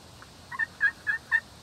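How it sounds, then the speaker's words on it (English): Merriam wild turkey gobbling from some distance during a spring hunt in Nebraska, four rattling gobbles in a quick, evenly spaced series, moderately faint over quiet outdoor background. "They're gobbling right now."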